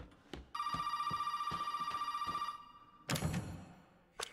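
In Resident Evil 7, an old telephone bell rings in a rapid, rattling trill that stops and restarts once, loud and close, with thuds and room noise between bursts.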